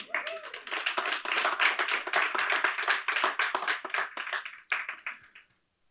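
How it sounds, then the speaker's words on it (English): Church congregation clapping their hands together, a brisk burst of many overlapping claps in a room, fairly soft, lasting several seconds before tapering off into silence. "Give them a hand clap."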